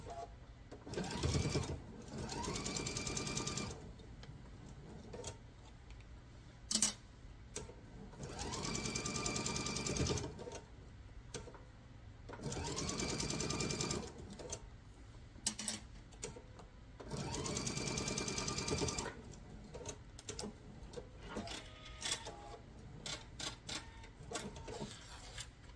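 A sewing machine stitches a Virginia Reel quilt block in several bursts of steady, fast, even running, with short pauses between the seams, close and clear.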